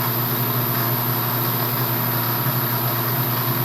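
A Bridgeport milling machine running at 127 RPM gives off a steady, loud, unchanging motor hum with a constant tonal whine, close by and alone.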